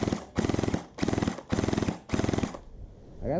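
A gel ball blaster fires rapid full-auto bursts after hop-up tuning, five short, evenly spaced strings of quick mechanical shots close to the microphone, with brief pauses between bursts.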